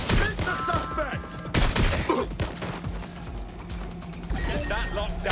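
Bursts of gunfire and combat effects crackle in the video game Watch Dogs: Legion, mixed with game voices and shifting electronic sounds, loud and busy throughout.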